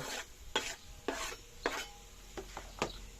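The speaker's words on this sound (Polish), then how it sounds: "Ok, cebula ląduje na naszej patelni." Onion sizzles in a hot pan over a campfire while a utensil stirs it in several short scraping sweeps, with a steady frying hiss underneath.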